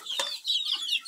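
Chickens cluck busily at close range, with a hen and a rooster penned together on a farm where colored chicks are kept. The clucks come as a dense, scratchy chatter with no talk.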